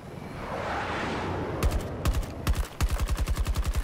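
M5A3 rifle fire in Battlefield 2042, with short bursts and then a rapid run of sharp, close shots in a steady automatic rhythm after a stretch of rushing background noise.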